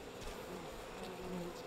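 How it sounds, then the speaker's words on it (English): Bees buzz steadily in the video game We Happy Few, a constant droning hum with no other sound. "Those are bees."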